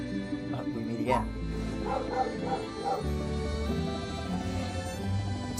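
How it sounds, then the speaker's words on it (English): Small dog yipping and barking loudly in short bursts near a streamer playing a Snezhnaya winter stage, under continuous game music and talk. "Sorry, my dog's loud."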